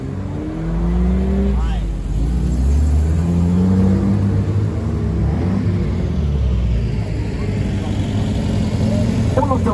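Ford Escort Cosworth rally car engine revving and accelerating on a hillclimb, a loud close rumble with rising and falling engine tones sustained throughout, with voices talking over it.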